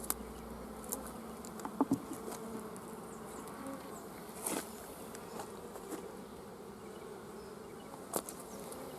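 Honeybees humming steadily on the comb of an open hive, a soft continuous buzz with occasional louder passes of single bees near by.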